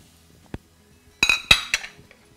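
A utensil scrapes and clinks against a pan while a prawn and cherry tomato stir fry for courgette noodles is stirred, giving one light tap then a quick cluster of three or four sharp metallic knocks, close and alone.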